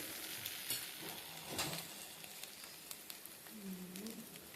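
Chapati pieces fry in a pan with a soft, faint sizzle and occasional stirring clatter, steady throughout, with a brief faint voice-like sound toward the end.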